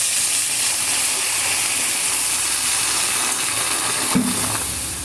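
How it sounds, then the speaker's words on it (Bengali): Water added to frying dal (lentils) on a stove gives a steady loud hiss and steam-like rush throughout, with a brief sharper splash or sizzle near the end; no talking. "এই আমি জল দিয়ে দিলাম ডালে।"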